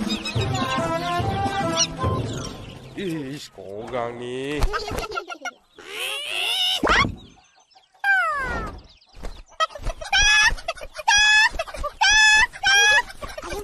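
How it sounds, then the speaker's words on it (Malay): Chicks from an Upin Ipin episode chirp and peep in short, bright bursts, mixed in with lively cartoon children's voices talking over them. "Lepaskan anak ayam tu."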